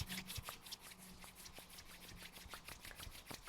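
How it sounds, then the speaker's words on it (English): Hands rubbing together during a standing somatic exercise to build heat: quiet, close, rhythmic brushing strokes repeating steadily, roughly several per second, with no speech. "bring our hands together, rubbing your hands together to build some heat"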